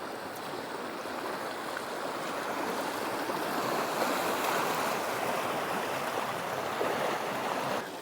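A brook swollen and flooded after Hurricane Beryl's heavy rain, rushing over fields beyond its banks as a steady, full roar that swells slightly midway, with some wind.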